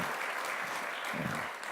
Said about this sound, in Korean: 우리 큰 박수로 격려해 주시고